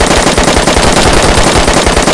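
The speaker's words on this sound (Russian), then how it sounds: "Стреляет, чё, слушайте." Loud, close, continuous automatic gunfire in DayZ, a rapid steady stream of shots filling the whole two seconds.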